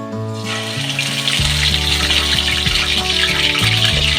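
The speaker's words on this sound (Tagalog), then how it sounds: "Yan, mag-start na tayo mag-prito." Chicken frying in a pan of cooking oil gives a loud, steady crackling sizzle that swells after the first second and continues unbroken, with no voices.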